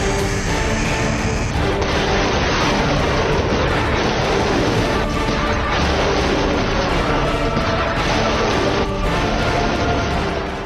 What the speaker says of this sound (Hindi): इस युद्धाभ्यास में ईरान ने बावर 373 मिसाइल डिफेंस सिस्टम से टारगेट को निशाना बनाया।